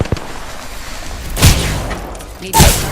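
Two heavy blasts from grenades going off in the shooter Apex Legends, each a sharp booming burst with a short tail, spaced about a second apart over faint background game noise.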